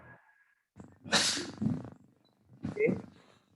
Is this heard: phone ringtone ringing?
no